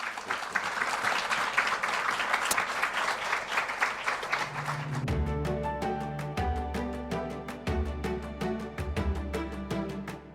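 An audience applauds steadily for about five seconds after a talk, with dense, loud clapping that then gives way to melodic music that carries on alone.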